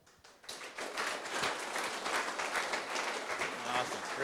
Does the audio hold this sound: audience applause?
yes